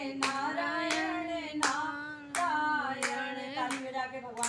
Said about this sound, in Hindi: ताली बजा के भगवान का ध्यान करें।